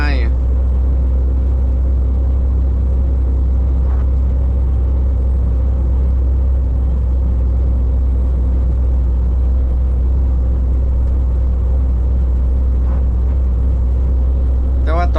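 A Foton vehicle's engine drones steadily in second gear, four-wheel-drive high, climbing a mountain road in Laos under a heavy, constant rumble, straining evenly for the whole stretch without letting up.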